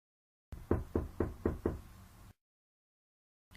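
Five hard knocks on a door in a quick, even series, close and sharp, followed by silence and a faint sound at the end.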